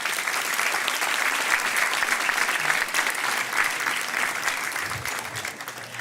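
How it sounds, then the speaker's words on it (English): An audience at a public forum panel session applauds its guests, sustained loud clapping from a crowd that holds steady throughout and tapers slightly near the end. "let's have a round of applause for our guests"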